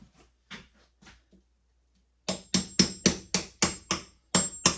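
A few soft taps, a pause, then about nine sharp hammer blows in a steady rhythm during a longbow glue-up, close and loud.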